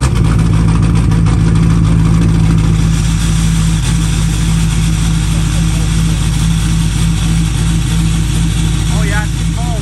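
A Ford truck with a swapped Cummins diesel and a straight 5-inch exhaust idles after a cold start, a loud, steady, rattling diesel drone close by, while people talk over it.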